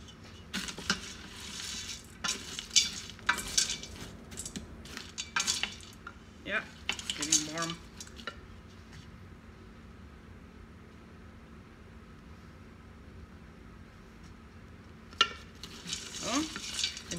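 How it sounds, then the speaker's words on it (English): Red onion sautéing in a pot on the stove, with scattered stirring clatter and utensil clinks over a low, steady sizzle, and a quieter stretch in the middle. "I have that red onion. It looks good in the soup. And we let it saute a little."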